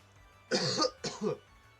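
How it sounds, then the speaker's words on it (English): A man clears his throat twice in quick succession, close to the mic, with no other sound around it during a Pokémon Sword/Shield competitive battle session. "Just clear my throat for you guys, so I don't sound like a chain smoker."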